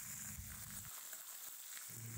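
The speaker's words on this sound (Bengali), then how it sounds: "কড়াইয়ে সামান্য পরিমাণে সর্ষের তেল দিয়ে হাফ চামচ কালো জিরে আর কয়েক কোয়া রসুন আমি এভাবে থেঁতো করে নিয়েছি সেটা দিয়ে দেব" Black cumin and crushed garlic sizzle in mustard oil in a kadai, a soft, steady frying hiss with faint crackles, low-level and continuous, with a few muffled handling bumps.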